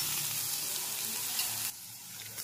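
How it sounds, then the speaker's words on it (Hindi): Nutrela soya chunks frying in oil in a kadhai, a steady close sizzle and crackle that drops to a softer hiss near the end. "देखिए कितने अच्छे से फ्राई हो रहा है।"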